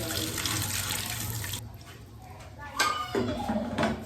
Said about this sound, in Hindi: पानी डाल दूंगी, ये 1 कप पानी डाल दूंगी।